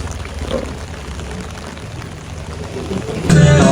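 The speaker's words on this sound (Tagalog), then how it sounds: "Medyo maulan-ulan ng panahon." Steady rain falls as a continuous hiss and patter. The sound swells louder in the last moment, close by and with no talking over it.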